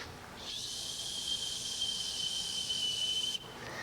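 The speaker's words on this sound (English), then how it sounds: "sometimes 1 or 2 of these diodes burning out will cause a whistle." A thin, high-pitched alternator whistle from a burnt-out diode rises over a hissing engine hum, holding steady for about three seconds before dropping away abruptly.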